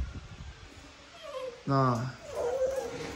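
Red Malinois puppy whimpering and yelping during a vaccination, thin rising whines and a sharp harmonic yelp mid-clip, close by, with someone speaking briefly.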